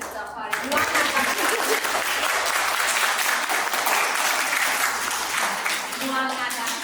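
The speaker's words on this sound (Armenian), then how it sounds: "Բարձր ծափարի" Loud, sustained applause at a school alphabet-book graduation ceremony in Oshakan, many hands clapping in a dense, even roar that carries on for several seconds.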